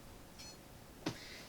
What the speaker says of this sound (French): si vous entendez des petits bips dans le fond, je suis désolée, c'est le PC de mon copain qui tourne dans le vide